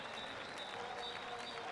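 Brazilian spectators clapping at a Paralympic 5-a-side football match in Rio, Argentina against Mexico, a faint steady spread of distant applause with a high whistling tone recurring over it.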